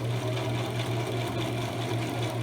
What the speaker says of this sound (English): As I continue to slowly sew down the fabric